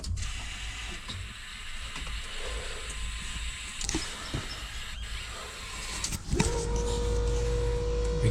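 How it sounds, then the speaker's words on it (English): A compound-turbo Subaru Forester engine cranks and catches with a sharp burst near the end, settling into a steady close idle over a continuous background hiss. "Let's turn the car on again."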